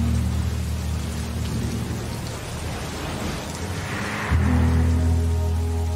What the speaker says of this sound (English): It is stormy outside.